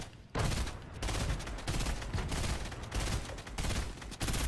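Gunfire in the Fortnite video game comes as rapid sustained bursts of loud shots with brief pauses between volleys, dense and close.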